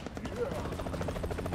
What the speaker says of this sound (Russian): Вертолет, погнали.